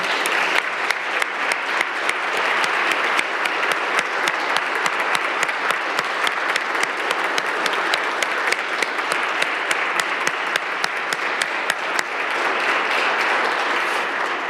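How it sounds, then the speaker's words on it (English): A city council meeting audience applauds at length, a sustained dense round of clapping with individual sharp claps standing out, carrying on evenly throughout. "we all owe them a debt of gratitude and a round of applause"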